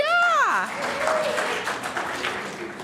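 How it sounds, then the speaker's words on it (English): Congregation applauding in a full church during Sunday worship, with a choir present; a steady wash of clapping runs throughout, opening under a high sung or whooping voice that rises and falls before the clapping continues alone. "You can clap for that"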